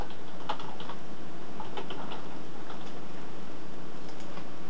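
Steady typing on a computer keyboard, with quick irregular key clicks running throughout at close range and no voices.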